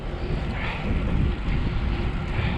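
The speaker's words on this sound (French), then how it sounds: "on roule tranquillement, on a le vent de face là" A strong headwind roars across the microphone while cycling on the Île de Ré, a dense, steady rumble of wind buffeting without any clear voices.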